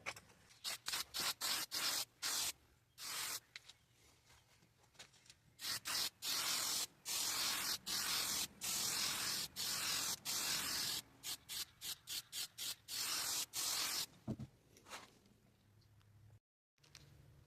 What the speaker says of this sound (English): I'm going to go ahead and spray the rest of this.